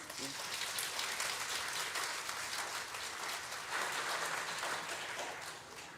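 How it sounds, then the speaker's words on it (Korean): Church congregation at a joint Korean Liberation Day service applauding to welcome a guest, a steady, fairly soft wash of clapping from a large room, with a voice briefly audible over it. "우리 의원님 박수로 환영하겠습니다."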